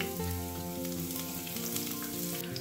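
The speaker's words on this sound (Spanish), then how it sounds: "Una vez que tenemos el aceite caliente, lo que hacemos es echar la cebolla en la sartén." Chopped onion hits hot olive oil in a frying pan, making a loud, continuous close-up sizzle with faint stirring, while a tonal hum runs underneath. Nobody speaks.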